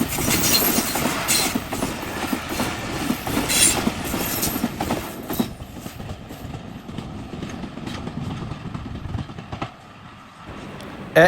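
A train rolls past near a tunnel at a Pakistani railway station, a loud continuous rumble with rhythmic clickety-clack and faint wheel squeal that gradually thins out toward the end.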